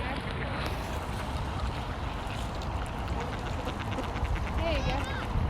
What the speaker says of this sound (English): These are the ducks.